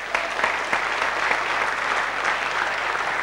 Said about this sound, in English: Big round of applause, I think.